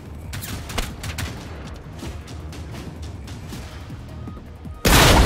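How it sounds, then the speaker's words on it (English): Shotgun blasts in the video game Generation Zero, a rapid series of sharp broadband shots and crackling gunfire through most of the stretch, then a sudden much louder blast near the end that stays loud to the close. "I'm getting out my shotty. Shot Shotgun's good. Oh, it's loud"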